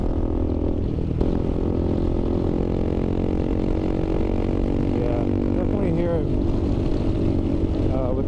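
A KTM 390 Adventure motorcycle engine runs steadily at close range, its harmonic drone shifting in pitch as the revs change, with a faint voice underneath.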